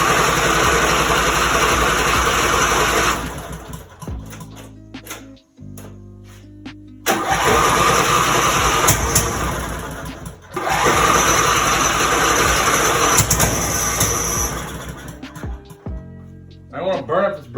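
A lawn mower engine cranks with a new starter in long whirring bursts, grinding for several seconds, pausing, then cranking again without catching; someone talks during the pauses.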